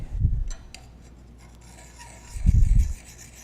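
A burr is put back on a cabinet scraper, heard as two short, close scraping rubs of the tool edge separated by a quiet pause of about two seconds.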